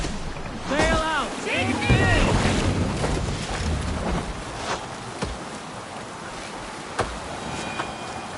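A sailing ship at sea in Assassin's Creed Valhalla, with steady rushing wind and water filling the scene throughout, while voices call out over the top near the start and a few knocks sound later.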